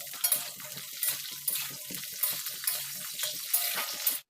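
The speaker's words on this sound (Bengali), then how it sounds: "তো তেলটা গরম হয়ে গেছে, এখন দিয়ে দিচ্ছি প্রথমে ফুলকপিটা। ফুলকপিটা আমি হালকা করে ভেজে নেব।" Cauliflower frying in hot mustard oil in a wok, a steady close sizzle with crackling bursts and the occasional stir, continuous until it cuts off abruptly.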